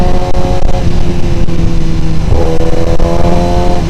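A tuned 2025 Suzuki GSX-R1000R sportbike roars close by, its engine revving with sharp throttle blips that rise and fall over a loud, sustained exhaust note.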